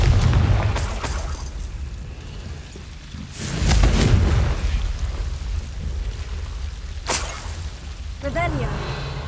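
Fiery Confringo spell blasts in Hogwarts Legacy, two loud booming bursts several seconds apart over a steady rumbling game ambience, with a few sharper crackles between them.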